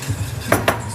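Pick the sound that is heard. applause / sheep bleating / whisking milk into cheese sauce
whisking milk into cheese sauce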